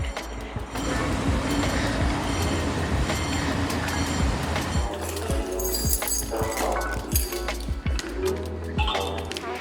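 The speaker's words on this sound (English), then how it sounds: "Can you hear the train?" A Lisbon Metro train rumbles past up close, steady low roar with rhythmic clacks of wheels over rail joints and occasional metallic squeals, lasting throughout.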